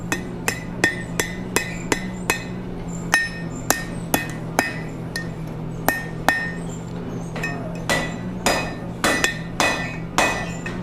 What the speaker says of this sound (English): put the tail on the horn and then hammer on the unsupported part